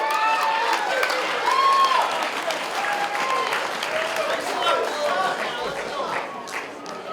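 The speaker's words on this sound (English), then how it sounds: "Next up, a big round of applause for Chris No." A wedding reception audience applauds the best man as he steps up, sustained clapping with some cheering and crowd murmur carrying throughout.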